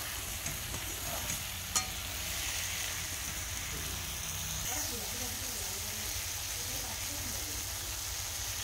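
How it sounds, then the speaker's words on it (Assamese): Potatoes and eggplant fry in a pan with a steady, faint sizzle, joined by occasional stirring clatter and a sharp tap partway through. "আলু বেঙেনাখিনি অকমান সময়ৰ বাবে ভাজি লৈছো"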